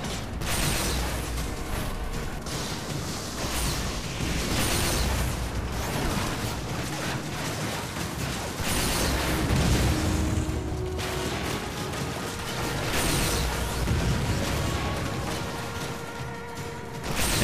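Rumbling blasts and crashing booms fill a Lost Planet boss fight as rockets explode, a dense, continuous roar of game combat with heavy low-end impacts and mechanical clatter throughout.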